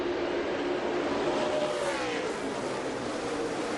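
NASCAR stock cars roar together in a dense, continuous wall of engine noise as the field accelerates on a restart down the Indianapolis front straight toward turn 1, with a rising pitch sweep around the middle.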